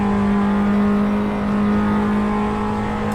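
Engine of an Alfa Romeo Mito QV revving hard in Assetto Corsa on the Nordschleife, a loud, steady drone with a strong constant tone, held at high revs throughout without any voice.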